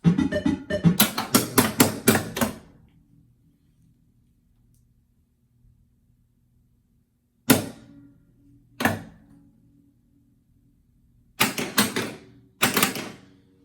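A 1979 Gottlieb System 1 pinball machine starting a game: a rapid burst of mechanical clacks and chimes, then silence broken by several loud isolated knocks and bangs, like a machine resetting.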